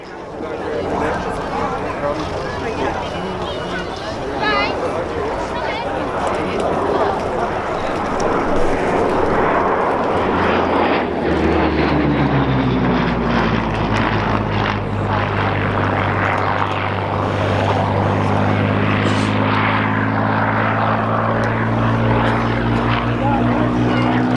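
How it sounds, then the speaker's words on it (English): A Hawker Hurricane Mark 12B fighter runs its piston engine and propeller at the Dunsfold Wings & Wheels 2014 airshow, a loud droning roar that settles into a steady harmonic hum while an announcer talks over it. "Peter Teichman in the Hangar 11 Hurricane Mark 12B."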